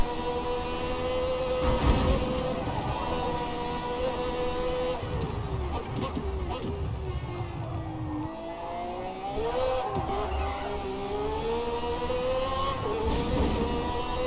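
A race car engine in the Forza Motorsport video game lapping a track, a continuous whining drone that rises and falls in pitch through gear changes, braking and acceleration, with no talk over it.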